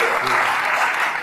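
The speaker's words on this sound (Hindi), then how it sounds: "दादा के इशारे पे आपको ताली बजानी चाहिए" An audience at a Hindi comedic poetry performance claps briefly, a dense burst of applause that holds steady and tapers off slightly at the end.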